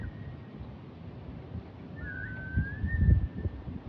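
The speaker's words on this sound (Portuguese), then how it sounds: "This whistling is how they communicate." A stranger whistling in a forest: one clear whistled note that bends slightly and holds for over a second, moderately faint above low rumbling background noise.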